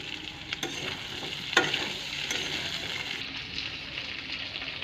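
Fish heads fry in a spiced masala in a pan, giving a steady soft sizzle with a few sharp stirring clicks and one louder clatter, fairly quiet and without talk.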